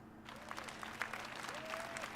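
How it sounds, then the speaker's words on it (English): Applause from an E3 2018 audience at EA's presentation, a steady crackle of many hands clapping throughout at moderate volume, with no talking. "Let's give them all a round of applause."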